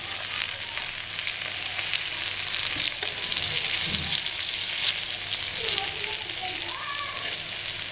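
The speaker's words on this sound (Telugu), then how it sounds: "మరో ఫైవ్ మినిట్స్ వీటిని ఫ్రై చేసుకుందాం" Fish pieces shallow-fry in a little oil in a pan, giving a dense, continuous crackling sizzle close by, steady throughout with a few soft clatters and faint scrapes as they are handled.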